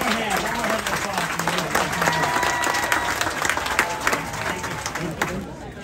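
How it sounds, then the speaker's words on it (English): A crowd at a high school art building dedication gives sustained applause, dense clapping with scattered cheers and voices mixed in, steady throughout and tapering slightly at the end. "One more hand of applause"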